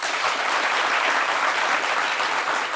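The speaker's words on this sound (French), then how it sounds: "Applaudissez." Audience applause at a French talk show about art direction and mood boards, a steady dense wash of clapping from many hands, loud and continuous throughout with no voices over it.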